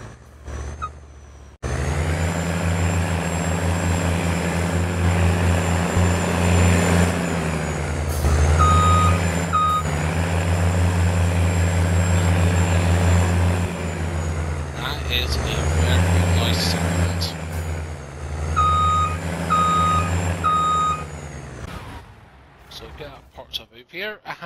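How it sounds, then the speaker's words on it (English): John Deere 9RX tractor engine in Farming Simulator 19: a loud, steady diesel drone over about twenty seconds, rising and dipping with load, with intermittent short electronic beeps; someone talks over it. "And just listen to the engine sound."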